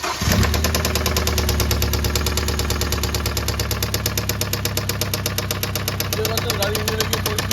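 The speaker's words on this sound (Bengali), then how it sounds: "আমার গাড়ির ইঞ্জিনের সাউন্ড শুনে নিন।" Hyundai Elantra engine idling with the hood open, a loud steady mechanical clatter with a rapid, even knocking rhythm throughout.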